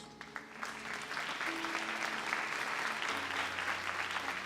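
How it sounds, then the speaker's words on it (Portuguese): A church congregation applauds after a sermon passage, sustained dense clapping filling the room at steady volume, with a low held organ or keyboard tone underneath. "Vamos nos assentar aplaudindo a palavra de Deus."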